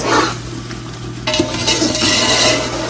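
Spoon scraping and stirring through biryani masala with potatoes in a metal pot, a dense rustling scrape over a background sizzle, with a louder burst of mixing partway through and no voices.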